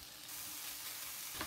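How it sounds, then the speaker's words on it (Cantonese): Bacon sizzles in a little oil in a flat frying pan over medium heat, a steady close crackling hiss with no talk. "慢慢爆香啲煙肉佢。"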